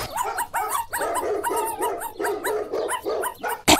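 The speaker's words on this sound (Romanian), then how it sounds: "Hem, lătratul ăsta mă termină!" Repeated sharp dog barks and yips in a steady burst, close and loud, one after another with brief gaps, no talking.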